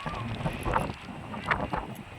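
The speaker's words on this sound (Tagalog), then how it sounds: "At super lakas ng hangin." Strong wind gusting across an open lakeside spot at Pantabangan, a steady buffeting rush with louder swells that lasts throughout, close to the microphone with no voices.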